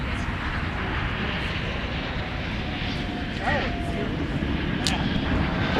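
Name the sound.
airliner jet engines at MSP airport, Airbus A330 and CRJ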